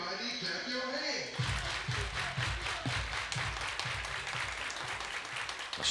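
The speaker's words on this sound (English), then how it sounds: "Everybody clap your hands." A baseball crowd at a ballpark claps in a rhythmic, sustained patter during an extra-inning game, a dense wash of hand claps with a background hum.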